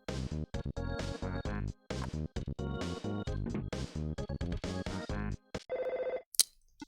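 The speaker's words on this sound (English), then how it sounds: "There's the phone again." A telephone rings in the Earthbound video game, a string of rapid electronic ring tones that fill most of the moment, ending in a higher tonal chime.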